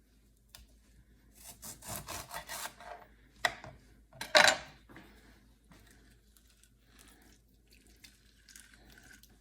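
A lime is rolled and pressed hard on a board to soften it, making close, quiet rubbing and grinding strokes in short bursts with one sharper squeak-like scrape, and no talking.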